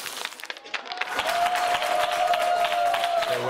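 A television studio audience breaks into applause that swells from scattered claps into a dense, sustained roar, with a brief whistle-like tone running through it.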